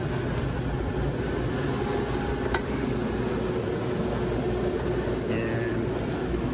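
Engine room of a 1984 87-foot Feadship sportfish yacht, filled with a loud, constant droning machinery hum that stays unchanged throughout, with a couple of faint clinks on top.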